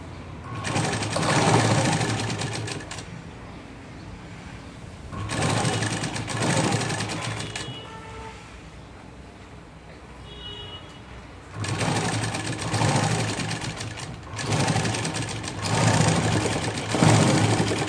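A sewing machine stitches the back part of a garment in several sustained bursts, each whirring for a few seconds before quiet pauses, running close and steady with no talk.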